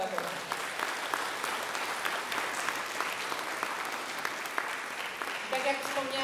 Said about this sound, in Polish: Wielkie brawa dla pedagogów.